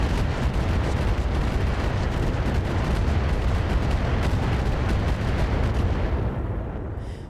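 A massive salvo of 80 MRM missiles launched in RogueTech, a dense, roaring barrage of overlapping launches and blasts that rumbles without a break, then thins and fades at the end.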